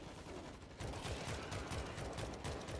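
Rapid bursts of automatic gunfire in the video game World War Z on PS4, dense continuous firing that jumps louder partway through and keeps rattling to the end.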